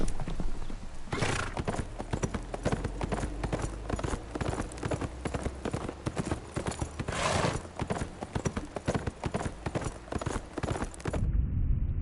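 Horses amble at a leisurely walk in a Game of Thrones video game, their hooves clip-clopping in a steady, continuous rhythm up close, with an occasional whinny mixed in over the full length.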